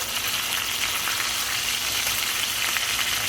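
Hamburger steak patties fry in a skillet with a steady, close crackling sizzle that stays even and continuous, with no talking over it.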